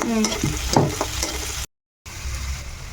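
Cashews, green chili, onions and carrot frying in hot oil, giving a loud, close, crackling sizzle with stirring scrapes that cuts out briefly before the sizzle resumes.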